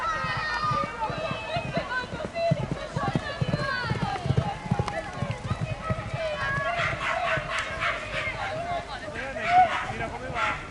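Hoofbeats of a horse galloping around the track during a Palio trial at Piancastagnaio, ridden by jockey Antonio Siri for Contrada Voltaia, a steady drumming under continuous commentary and crowd noise.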